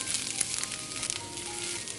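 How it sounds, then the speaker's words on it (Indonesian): Shallots and garlic sauté in hot oil in a wok for a stir-fry, giving a continuous close crackling sizzle with no voices. "Kita tumis bawang merah dan bawang putihnya sampai wangi."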